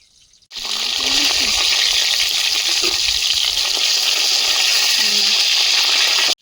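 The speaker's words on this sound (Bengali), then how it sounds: "মাছগুলো ভাজা হয়েছে তুলে নেব" Mrigal fish fry in hot oil, giving a loud, steady close sizzle and hiss that runs unbroken for several seconds, with faint voices murmuring underneath.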